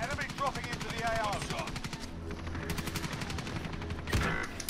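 Rapid gunfire in Call of Duty: Modern Warfare, a dense run of automatic shots crackling steadily for several seconds with a sharper burst near the end, with voices talking over it.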